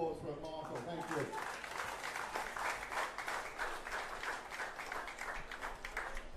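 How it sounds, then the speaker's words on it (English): A crowd at an Australian rules football match breaks into sustained applause, a dense patter of clapping that carries on for several seconds, with a voice speaking just before it starts. "So I'd like you to recognise that and a round of applause for Michael."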